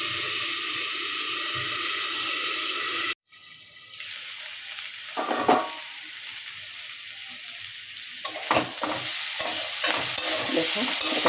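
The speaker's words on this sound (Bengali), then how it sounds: "মূলো আর মূলো শাক একসঙ্গে দিয়ে ভাজবে" Radish and radish greens frying together in a pan, a steady sizzle that cuts out briefly, then returns with stirring scrapes and clatters close by.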